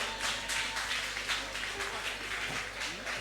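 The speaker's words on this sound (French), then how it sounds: "que vous faites bien d'applaudir à nouveau, s'il vous plaît" An audience applauds after a saxophone performance at a final, a steady patter of many hands clapping with a voice heard over it.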